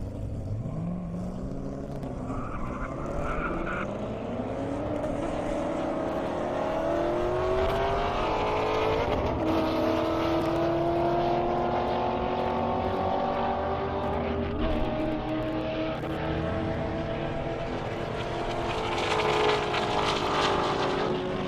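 Corvettes, one a 2007 model, launch side by side on a half-mile airport strip at a drag racing event, engines roaring and climbing through gear changes in a long, loud, sustained run from start to far end.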